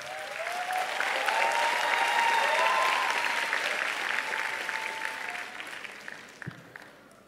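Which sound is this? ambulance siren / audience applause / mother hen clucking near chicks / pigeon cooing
audience applause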